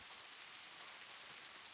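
Rain falls in the video game Minecraft, a steady dense hiss of drops with no breaks or voices, even and fairly soft throughout.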